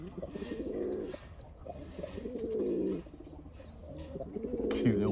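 Young pigeons about two weeks old coo in repeated soft, low bursts, close by in a garden, with faint chirps above and no talk.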